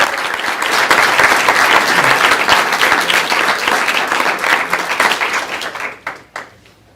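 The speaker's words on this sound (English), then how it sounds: "give him another round of applause" A meeting audience at a county school board session breaks into sustained, dense applause, loud and steady for several seconds before thinning into scattered final claps.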